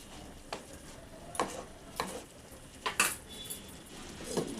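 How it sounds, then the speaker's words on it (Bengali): A utensil stirs a green tomato curry in a pan, with scattered metal scrapes and clinks against the pan at irregular intervals, fairly quiet and close, with no talk. "এবার নাড়াচাড়া করে নেব"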